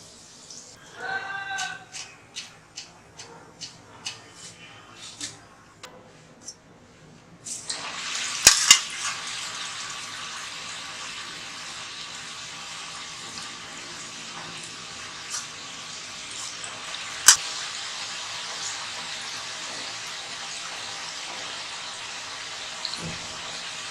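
Mullu murukku dough frying in hot oil for Christmas snacks: a few seconds of faint clatter, then a steady, bright bubbling hiss that carries on to the end, broken by a couple of sharp clicks.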